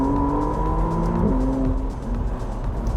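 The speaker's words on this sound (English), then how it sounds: "They improve the sonic beauty of this engine." A McLaren Artura Spider engine rumbles loud and close, its deep exhaust note through valved exhaust revving up and easing back.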